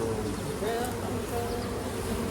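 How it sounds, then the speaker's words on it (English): Honeybees flying in to land at a hive entrance make a dense, continuous buzzing hum, close and steady throughout. "we've got bees coming in, so we haven't entirely stopped the traffic flow of bees"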